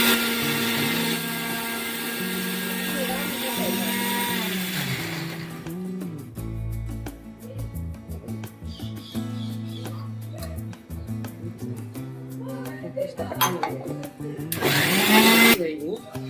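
A kitchen mixer grinder loud and steady, grinding a batch with salt and a little water added, its motor whine running through most of the stretch with pauses and a final burst near the end; a voice talks over parts of it.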